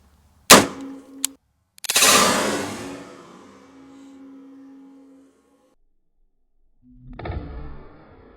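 A varmint grenade bullet fired at a ballistic head target: a sharp loud gunshot crack, a short metallic ping, then a second loud burst with a long ringing decay and a hum, and a later rustle of debris.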